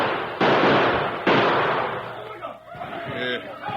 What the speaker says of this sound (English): We've got to stop those critters hammering on this door